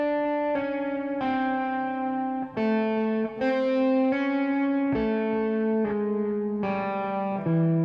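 An electric guitar plays a slow descending pentatonic lick of single notes, about ten clear picked and pulled-off notes in steady succession, close and alone.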